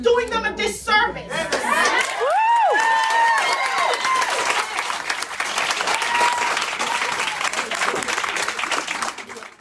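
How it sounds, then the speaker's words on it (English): Loud, sustained applause with cheering from an audience at a school district meeting, dense clapping filling the room, with voices and whoops rising through it from start to end. "This might be the most enthusiastic applause and cheering of the whole night."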